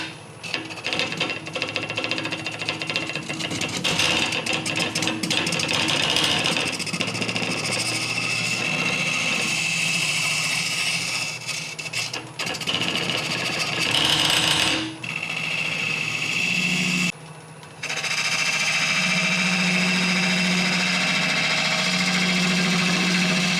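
A wood lathe turns a vase while a tool cuts away wood from the inside, giving a steady, close whirring and scraping drone with brief dips and one short pause.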